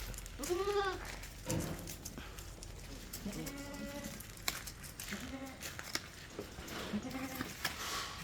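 A goat bleats several times at spaced intervals, quiet and somewhat distant, with faint background noise and occasional voices between calls, at a livestock sale in Kerala.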